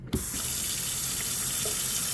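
A tap runs at strong pressure, a steady loud rush of water starting abruptly with a short gush and then pouring continuously and close, with no talk.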